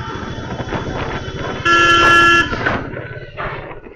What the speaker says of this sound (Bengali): আমার পিছনে কে হর্ন দিচ্ছে?